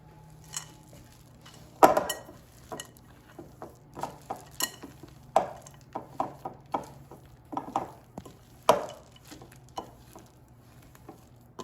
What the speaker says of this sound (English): I'm going to add 1 cup of chocolate chips. And mix them in.